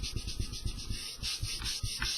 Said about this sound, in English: take your sanding stick, lay it down flat